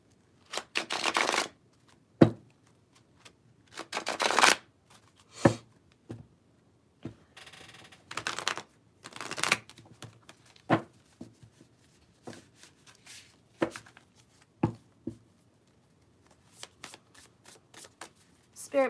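A love oracle card deck being shuffled in short bursts of crisp riffling and rubbing, close by and alone, separated by brief pauses.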